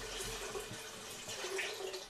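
Water poured into a pressure cooker holding dal for a vegan toor dal recipe, a steady running gush and splash close by, with no talking.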